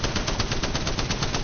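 Rapid automatic fire from the Spitfire light machine gun in Apex Legends, a steady sustained burst of evenly spaced, loud close shots with no pauses and no talk.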